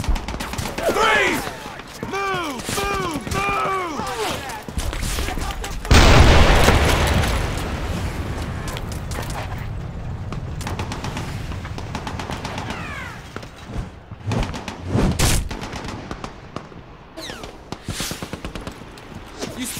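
Squad rifle fire in a Brothers in Arms: Hell's Highway battle, loud bursts and heavy blasts crackling through a busy combat mix, with birdlike whistles early on and shouted voices throughout.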